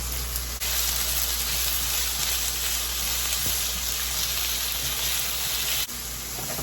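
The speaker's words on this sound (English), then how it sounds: "Again, let's stir these potatoes." Potatoes frying in a pan give a dense, loud, even sizzle that runs unbroken, with a couple of faint knocks from stirring and no voices.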